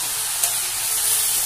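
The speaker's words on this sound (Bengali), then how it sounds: "ভালো করে একটু ভেজে নিচ্ছি" Fish head and cauliflower fry in a pan with turmeric, giving a steady, close bright sizzle and hiss with no pauses.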